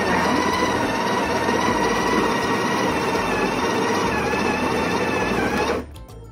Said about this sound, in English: push all the way back until you start to hear the espresso being ground